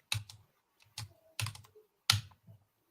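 Typing on a computer keyboard in a few close, crisp bursts of keystrokes separated by short pauses, with no talk over them.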